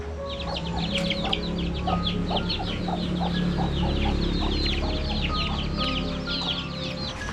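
Several chickens cluck and chatter continuously nearby, their short calls overlapping against a low background hum.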